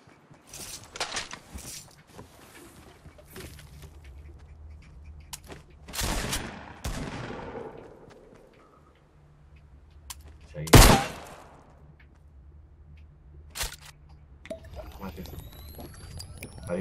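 Shotgun fire in the Fortnite video game: a few loud, sharp blasts spaced several seconds apart, the strongest near the middle, set against a low steady game hum with speech present.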